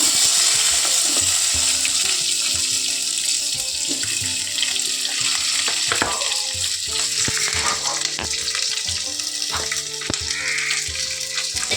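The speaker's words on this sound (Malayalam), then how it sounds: "അപ്പോൾ നമുക്ക് ഈ ചക്ക ഇതിലേക്ക് ഇടാം." Jackfruit pieces tossed into a hot pan and stir-fried for a Kerala-style stir-fry, a loud steady sizzle with scraping stirring strokes throughout, close and continuous.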